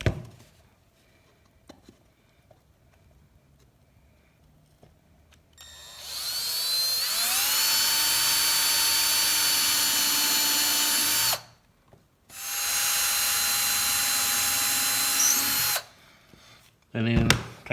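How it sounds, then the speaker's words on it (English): A power drill pre-drilling wood for trim screws whirs steadily at high speed in two long bursts, the motor whine holding pitch before stopping, with a short pause between runs. "And you just want to pre-drill these."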